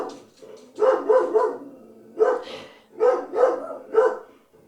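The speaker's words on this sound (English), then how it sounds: "Barking dogs, barking dogs." Dogs bark close by in quick clusters of two or three sharp barks, separated by short pauses, fairly loud against a quiet room.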